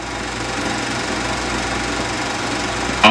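An Allis Chalmers WD45 tractor engine runs steadily at a constant idle-like drone while its power shift wheels are moved out to a new spacing, with a brief louder clunk right at the end.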